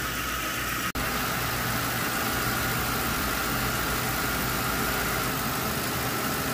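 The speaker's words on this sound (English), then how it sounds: "There the engine is, burning off all that blaster and WD-40 I soaked it with." Lincoln / Crown Victoria engine idling after being soaked in penetrating oil, a loud, steady close-up rumble with constant broadband noise and one brief click near the start, no voices.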